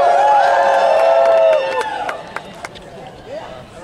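Graduates and guests at a University of Oregon 2018 ceremony cheer and whoop loudly before the noise drops to scattered claps and murmuring within a couple of seconds.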